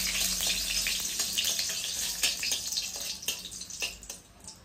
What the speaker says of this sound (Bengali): শুকনো মরিচ একটু বাজা বাজা হচ্ছে